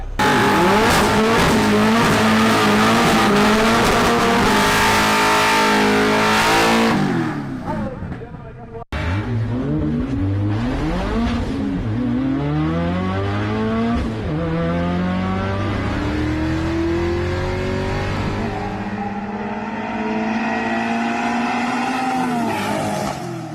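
Loud drag racing cars, one on drag radial tires, rev and accelerate hard, with tires squealing and a brief drop in sound before the roar resumes and climbs.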